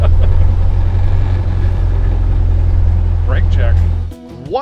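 A 1929 Ford Model A, nicknamed Gumby, runs loud and steady with a deep low rumble for about four seconds, then the engine note drops away abruptly near the end as voices speak over it.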